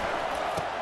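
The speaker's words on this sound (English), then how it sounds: "This crowd trying to make life miserable for this offense." Steady roar of a packed stadium crowd at a Vanderbilt versus Tennessee college football game, a dense, continuous wash of noise without breaks.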